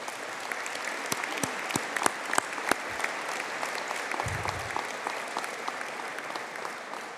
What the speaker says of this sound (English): I'd like to invite all here to give a round of applause to recognise the graduates' effort